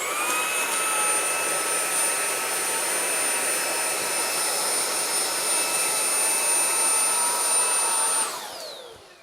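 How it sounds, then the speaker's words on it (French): A Xiaomi Dreame V9 cordless vacuum cleaner runs at maximum power on carpet, a loud, steady high-pitched whine and airflow roar that holds for about eight seconds before the motor spins down and fades. "j'ai mis l'aspirateur à puissance maximale"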